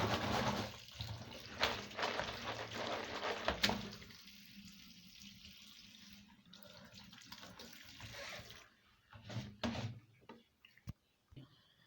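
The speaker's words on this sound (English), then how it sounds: "If you strain the water, you pour cold water" Cold water is poured to strain cooked fresh groundnuts, running and splashing steadily for a few seconds, then trickling and dripping intermittently with quieter gaps, close by.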